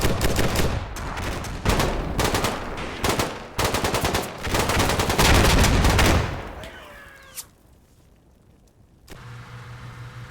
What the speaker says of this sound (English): Thank God for the cover fire from the strikers.